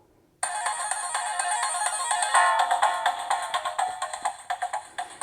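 A Sega Genesis startup jingle blares loudly from a V40 Max handheld console, a bright chiming tone that starts abruptly and then breaks into a run of quick pulsing notes that fade at the end.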